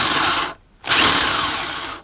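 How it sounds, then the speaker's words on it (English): A motor-driven half-inch drill bit bores into wood for a homemade lathe, giving a loud, close, steady whir. It stops briefly, then resumes at full strength and slowly fades. "Shaft on the motor is a 1/2 inch, so this is a 1/2 inch drill bit."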